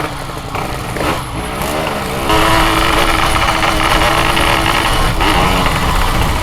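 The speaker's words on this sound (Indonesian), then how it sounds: "Motor enak power bawahnya, tapi pas sudah nyampe RPM atas nembak-nembak." A Yamaha RX King two-stroke motorcycle with a worn spark plug runs loud and close, its engine rising and holding at a steady buzzing rev with a slight change partway through, no speech.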